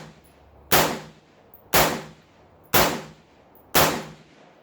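Four sharp rifle shots from a B&T APC, a piston-driven gas gun chambered in .223, firing Federal Premium 69 grain Sierra MatchKing ammunition. The shots are loud and evenly spaced about a second apart, each with a short decaying tail.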